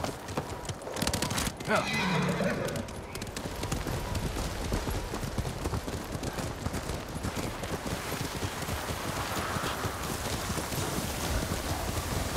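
A horse clip-clops at a steady gait while being ridden through snowy weather in the video game Ghost of Tsushima, rapid rhythmic hoofbeats throughout with a whinny early on and a brief voice.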